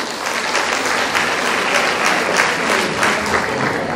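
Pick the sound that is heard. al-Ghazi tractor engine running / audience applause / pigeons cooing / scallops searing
audience applause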